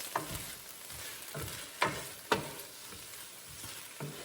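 Bok choy and rice sizzle and fry in a pan, with a steady hiss broken by a few sharper scrapes and tosses, close and moderately loud, with no voices.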